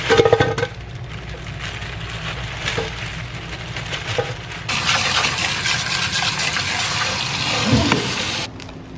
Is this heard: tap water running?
yes